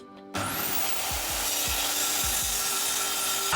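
A power saw starts abruptly and cuts through a wooden board, giving a loud, steady whine with a rough rasping texture that continues to the end.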